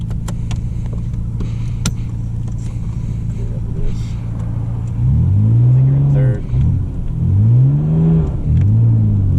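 Nissan R32 GTR engine revving up hard through a gear under driving, loud and close from inside the cabin, rising and falling in pitch with a brief dip between pulls; people talk over the drone.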